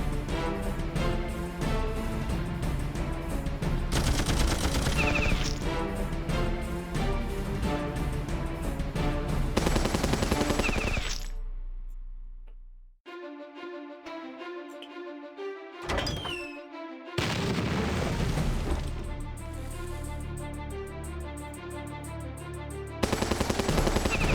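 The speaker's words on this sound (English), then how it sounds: "Probably need to use a machine gun." Machine gun fire in the turn-based war game Battle Nations during a naval battle, dense rapid bursts over loud game music and effects, then a short gap with isolated thunks before the din resumes.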